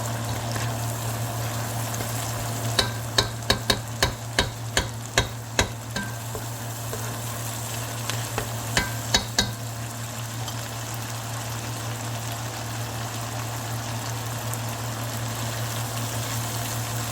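A spoon scrapes and knocks in a pot as flour and beef are stirred into a roux, a quick run of sharp taps over a low steady hum and faint sizzle, no talking.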